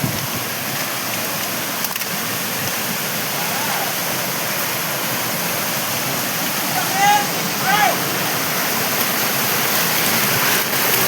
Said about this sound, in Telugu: ఎంత కొండపై నుంచి వచ్చే వాటర్ అన్నమాట ఇదంతా.